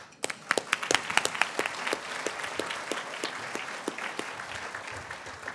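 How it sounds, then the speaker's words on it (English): A dinner audience at an annual award presentation applauds for several seconds, the clapping dense and even with crisp individual hand claps standing out. "the round of applause for Walter"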